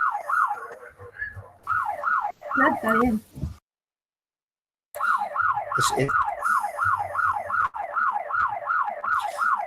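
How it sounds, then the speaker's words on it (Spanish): A neighborhood alarm siren wails in fast rising and falling sweeps, loud and steady. It cuts out briefly partway through, then resumes, while people talk over it. "Es una alarma vecinal."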